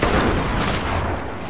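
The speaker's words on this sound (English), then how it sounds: "You don't forget how the hand cannon works. It just blows stuff up." Gunfire in the Destiny video game, a hand cannon fired by a Titan during an Earth patrol public event, comes as a dense, loud burst of shots and booms that runs through the whole moment.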